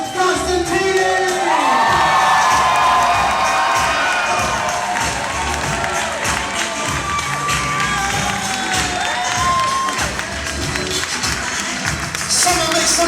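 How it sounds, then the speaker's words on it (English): Wedding guests cheer loudly for the newlyweds with whoops, shouts and scattered clapping, a dense crowd roar that holds for the whole stretch. "a thunderous round of applause to the new Mr. and Mrs"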